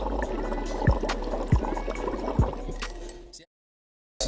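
Air blown into a cup of water makes a continuous close bubbling and gurgling with a few deeper gulps, then stops abruptly.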